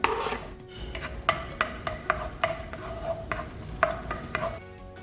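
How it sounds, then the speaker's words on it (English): Oil sizzles softly in a pan as chopped garlic cooks for a pan-made veg pizza, while a spoon scrapes and taps the pan in a steady rhythm of about a dozen close strokes, with no talking. "the onions, oil, we'll add the chopped garlic"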